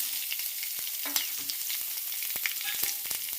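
Small shallots and dried red chillies sautéing in sesame oil, an even crackling sizzle with a few soft stirring taps, close and steady with nobody speaking.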